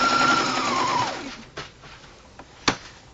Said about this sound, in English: We're stitching all the way around